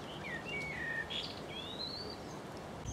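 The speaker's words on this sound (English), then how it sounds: "Now there's a bird whose song I do not recognize." An unidentified bird sings outdoors on a countryside walk between Great Shelford and Cambridge, giving a string of thin, high whistled phrases over a faint steady hiss with no talking.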